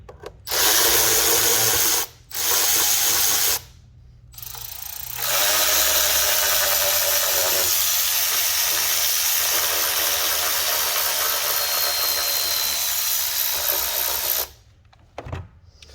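A power tool whirs in loud bursts while T30 Torx bolts come off the engine of a 2014 Chevy Malibu, with two short runs followed by a longer sustained spin of about nine seconds, close and alone.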